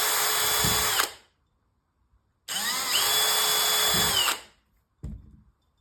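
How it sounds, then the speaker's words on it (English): A power drill whirs loudly in two bursts, drilling mounting holes for kayak lights, a short one and then a longer one, separated by silence, followed by a brief clatter. "So we're gonna go ahead and drill these holes and then get this thing mounted."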